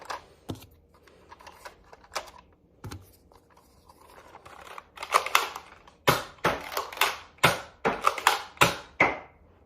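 Nerf Elite 2.0 Commander RD-6 blaster slam-firing foam darts: a quick run of sharp, close plastic clacks and pops, irregular at first and then coming in rapid bursts, with no voices.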